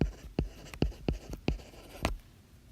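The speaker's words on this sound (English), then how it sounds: "I'll write it down in case." Pen writing by hand on paper, a quiet series of about seven short scratchy strokes in a loose rhythm, close up, with no talking.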